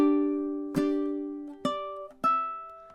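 Ukulele plucking through a measure of a song in steady time, bright sustained notes ringing over three or four clear attacks, close and alone.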